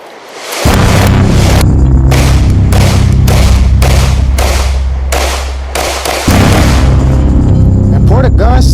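A Derya DY9 Island pistol fires 115 grain rounds in a rapid string of about a dozen loud, close shots over a low steady background rumble.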